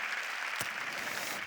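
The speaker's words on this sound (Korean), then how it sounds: "다시 한번 우리 큰 박수 올려드리며 나아가겠습니다" A church congregation at a Korean mission conference evening service claps in steady applause, with a sharp accent partway through and a faint voice underneath.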